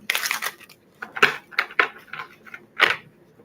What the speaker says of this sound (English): Last shuffle. For real, for real.